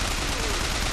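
Dense gunfire from a firefight in the video game BioShock Infinite on 1999 Mode, with a fireman enemy in the mix; a steady, loud barrage fills the whole moment without pause.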